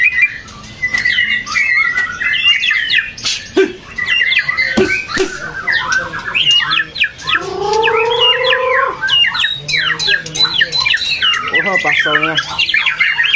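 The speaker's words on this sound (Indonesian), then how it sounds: "ini ada burung murai Medan kali Medan tangkaran hutan" Captive-bred murai Medan magpie-robins sing loudly and close in a busy competition setting, with rapid squawks, whistles and trilling phrases overlapping continuously while faint voices murmur underneath.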